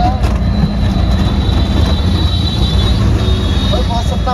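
Delhi Metro train running, a loud steady rumble of wheels on rail with a whining tone and occasional squeal, heard from inside or close by and continuous throughout.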